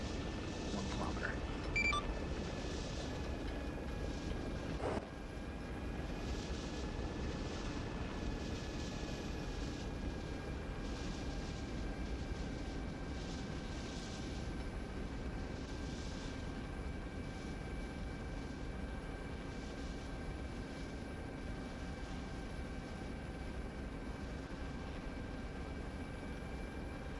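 Aircraft on final approach to runway 22 right in a military flight game, a steady broadband engine drone with faint tonal whine, continuous and even throughout, with talk mixed in.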